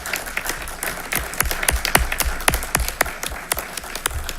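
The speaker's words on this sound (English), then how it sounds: "Please give him a round of applause" Sparse round of applause at a city council meeting, a handful of people clapping in distinct, fairly close individual claps that build slightly and then continue unevenly.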